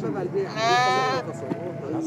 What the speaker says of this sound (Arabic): بازار على الخرفان.